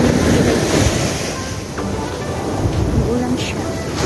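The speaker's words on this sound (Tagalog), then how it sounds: "Pero umuulan siya guys." Rain falling beside the sea, a dense continuous hiss mixed with the roar of breaking surf, loud and enveloping, with a voice speaking now and then in the background.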